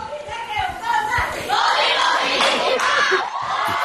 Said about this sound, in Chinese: 来来来，欢呼一下，欢呼一下的